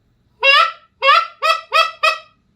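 Five loud, nasal goose honks blown on a wooden goose call, two longer then three shorter in quick succession, close and clear with no talking.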